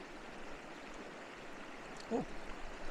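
A river flows along its bank in the windy UKK park wilderness, a steady broadband rush that continues throughout, with a brief thump just after the two-second mark.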